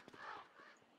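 Crows cawing in the video game Don't Starve, a short, fairly quiet harsh call standing over a steady low background.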